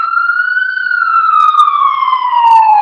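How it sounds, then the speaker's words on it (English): Police siren wailing outside, a single loud, clear tone sliding slowly up and then down in a long sustained sweep, with faint background sounds. "y'all hear y'all favorite sirens outside"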